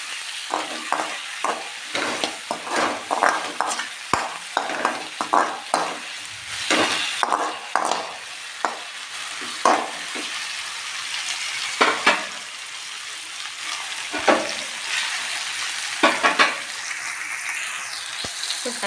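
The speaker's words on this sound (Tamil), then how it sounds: "தக்காளி நல்லா வதங்கிட்டுருக்கு" Tomatoes sizzle and fry in a pan while a utensil stirs and scrapes in quick, repeated strokes, close up, with no voices.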